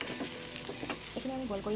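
Spices frying with turmeric powder in a pan for an Assamese fish curry with cauliflower, a close crackling sizzle under repeated stirring scrapes, quiet and continuous over a short stretch.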